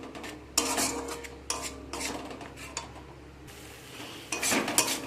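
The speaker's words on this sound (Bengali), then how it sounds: "সব কিছুকে আবারও ভালো করে কষিয়ে নেব। একসাথে মশলা সব কিছু মশলা একসাথে কষিয়ে নেব।" Spice masala with poppy seed and cashew paste being stir-fried in a pan, heard as bursts of spatula scraping and clinking against the metal at an irregular rhythm, fairly close, with no talking.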